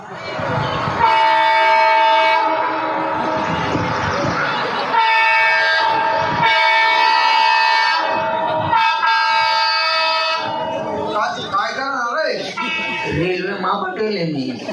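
A loud train horn sounds in long sustained blasts, several in a row, with harmonic tones and brief pauses between them, close and dominant.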